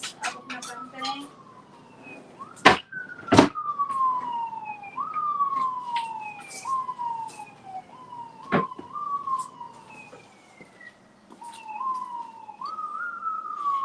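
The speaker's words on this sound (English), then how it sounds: "Let the ambulance pass. It's very, very loud." An ambulance siren passes close by outside a home kitchen, its repeated rising wail loud and continuous, with sharp clattering knocks and quiet talk underneath.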